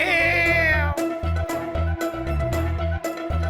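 A cat meows once, drawn out, at the start, over a steady, pulsing musical backing that continues afterward.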